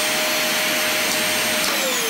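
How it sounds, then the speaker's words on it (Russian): Vacuum cleaner switched on with its hose inserted backwards into the suction opening to blow out a blockage, a loud, steady whine and rushing roar, constant and close, with no talking. "Включаем пылесос."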